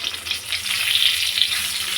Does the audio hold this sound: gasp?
no